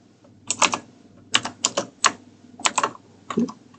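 Bursts of typing on a computer keyboard during a Tableau tutorial, quick clusters of close keystrokes separated by short pauses, with no talk.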